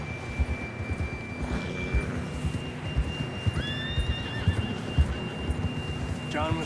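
A horse in Red Dead Redemption 2 whinnies in rising, wavering calls while its hooves keep up a steady clip-clop, with faint game ambience and background voices underneath.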